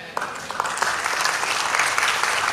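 A church congregation claps during a Christmas sermon, a steady patter of applause with some crisp individual claps standing out, sustained and fairly close.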